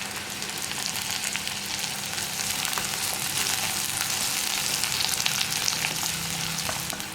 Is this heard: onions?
yes